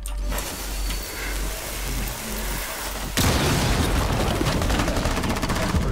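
Breach charge blast and gunfire in Rainbow Six Siege: a steady low rumble, then a sudden loud explosion at mid-clip followed by continuous rapid automatic fire, close and dense, with no talk over it.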